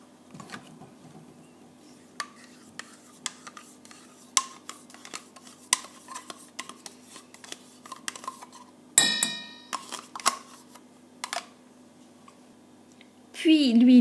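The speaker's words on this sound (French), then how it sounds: "Dans un saladier, je commence par mélanger la farine avec la levure, la pincée de sel et le yaourt nature." Flour, yeast, salt and plain yogurt are stirred in a bowl for naan dough, producing light repeated clicks and scrapes with a louder clatter near the end, under a steady low hum.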